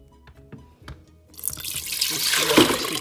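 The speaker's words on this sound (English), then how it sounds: "Adding 4 cups of water." Water pours into a pot holding chicken gizzards and whole garlic, starting after a few soft clinks and building into a steady, close splashing rush.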